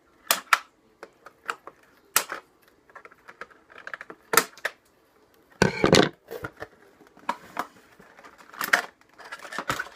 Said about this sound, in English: I got the scissors now, so we're gonna cut it